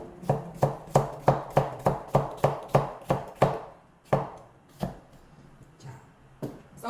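Knife chopping food on a cutting board, about a dozen quick, evenly spaced sharp knocks up close, then slowing to a few scattered cuts.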